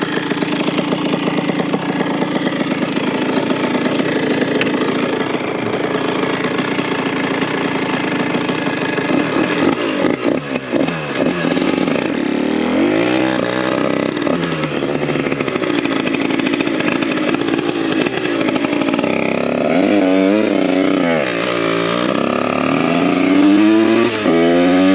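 A small two-stroke 70cc AM6 moped engine with a performance cylinder kit buzzes loudly and continuously, idling raggedly then revving up and down in repeated rising and falling surges.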